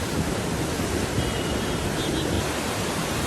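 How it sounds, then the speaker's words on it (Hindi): Heavy rainwater floods and rushes along roads amid debris and stranded vehicles in Himachal Pradesh, a dense continuous roar of flowing water with no break. "लगातार हो रही बारिश के कारण सड़कों पर पानी ही पानी बह रहा है।"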